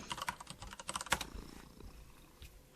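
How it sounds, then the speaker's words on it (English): Cat purring sound effect played as a stream redeem, a soft rhythmic purr mixed with close computer keyboard typing clicks, no talk. "I was about to say, I hear a cat."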